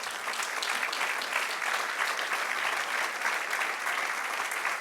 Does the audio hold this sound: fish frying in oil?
no